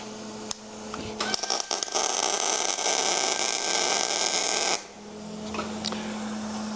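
A MIG welder tack-welds a nut onto a welding stand, giving one sustained crackling, buzzing hiss of about three and a half seconds between quieter shop hum, with no talk.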